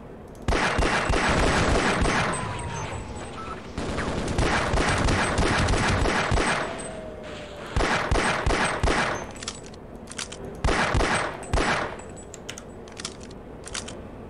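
Automatic gun turrets in the video game Half-Life fire in repeated rapid bursts of gunfire, loud and sharp, separated by short pauses, with ricochet-like pings between volleys.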